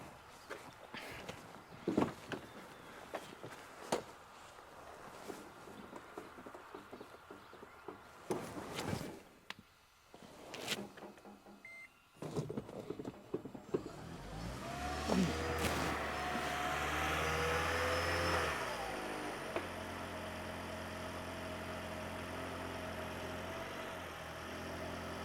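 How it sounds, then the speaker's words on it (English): A Toyota Prius engine cranks and catches around the middle, then settles into a steady idle hum, after scattered clicks and handling noises. "Okay, so now let's start the engine."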